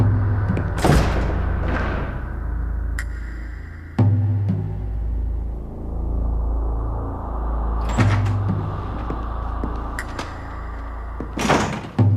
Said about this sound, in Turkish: Kapıyı kapatabilirsin.